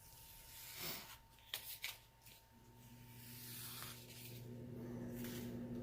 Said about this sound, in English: Let's remove all of our painter's tape here